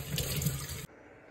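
A kitchen tap runs strongly over vegetables being rinsed in a sink, a close, steady gush of water that cuts off abruptly after under a second, leaving near silence.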